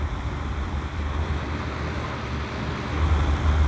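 A steady, loud whooshing hum of an electric fan blowing air on its second speed setting, constant and unbroken, rising slightly toward the end.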